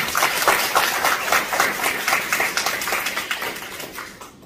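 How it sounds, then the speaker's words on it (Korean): Listeners at a Catholic artists' association lecture applaud to thank the priest who spoke, with close, rhythmic clapping forming repeated pulses before trailing off. "다시 한번 감사의 박수를 부탁드리겠습니다"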